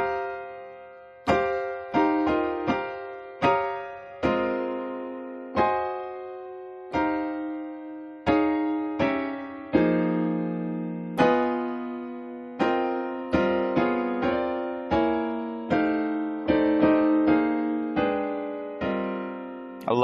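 Piano comping in jazz quartal voicings built from stacked fourths, a steady series of struck chords, some in quick clusters and others left to ring, played close and clear for about twenty seconds without talk.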